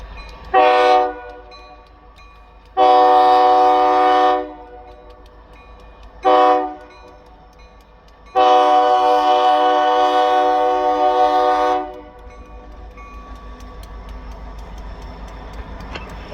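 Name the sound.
freight train locomotive moving with train horn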